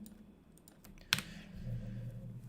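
Someone types on a computer keyboard, a few soft scattered key clicks and one sharp louder click, followed by a low steady hum, no voices.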